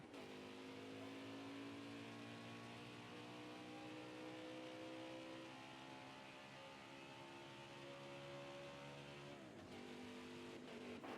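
Race cars on track in the video game NASCAR Heat 2003, a loud sustained engine drone with layered whining tones that drop briefly near the end as cars pass.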